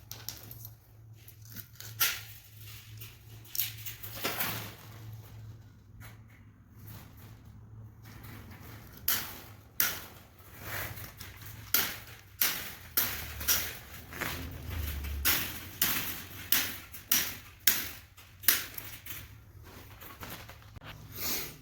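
Tin snips cut through wire mesh for a homemade tomato cage, a long run of sharp metallic snips that come quicker and louder toward the end, close by, with no talking.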